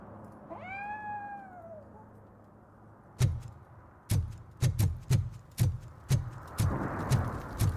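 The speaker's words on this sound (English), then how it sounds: "I hear a kitty." A cat meows once in Robocop: Rogue City, a clear rising-and-falling cry, followed by a run of heavy thudding footsteps that grow louder.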